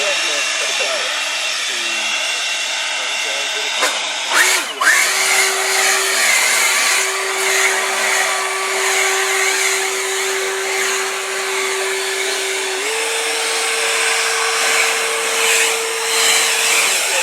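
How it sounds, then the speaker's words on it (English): An EGO battery-powered backpack leaf blower runs with a loud, steady whooshing roar and a high motor whine, a brief clunk near the start and a slight rise in pitch later, heard up close throughout. "this is the battery backpack blower"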